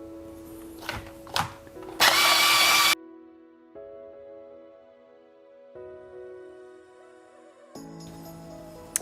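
A DOSHISHA electric shaved ice machine grinds ice in loud short bursts with a harsh buzzing rush, then drops to a quieter motor hum with tonal whirring between bursts.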